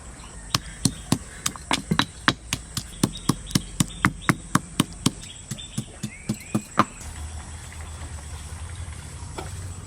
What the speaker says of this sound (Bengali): এবার কটা কাঁচা লঙ্কা ছেঁচে নেব